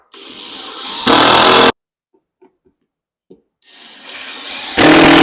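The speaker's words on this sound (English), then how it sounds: "I'm gonna put a couple screws in to hold it" Power driver sinking screws into plywood: two loud whirring bursts that rise in pitch and intensity as each screw seats, separated by a silent pause with small clicks, close and without talking.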